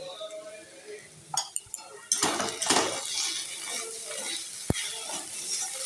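A pot lid comes off a pan of cabbage cooking for a vegetarian paturi: a few sharp metal clinks, then a louder clattering scrape with a soft sizzle lingering under it.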